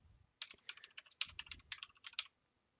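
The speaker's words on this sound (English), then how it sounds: "sorry for the clacky keyboard" Clacky computer keyboard typed in a quick, uneven burst of sharp keystrokes lasting about two seconds, fairly close and otherwise quiet, with no talking.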